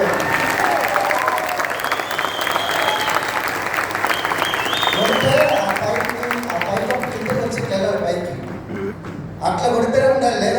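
A crowded audience claps loudly and continuously in a dense, even roar of applause that lasts several seconds, with a voice speaking over it near the end.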